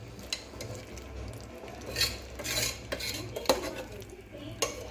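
Mushroom biryani masala stirred in a pot, soft scrapes and clinks of a spoon against metal recurring every second or so over a quiet low sizzle, no talk.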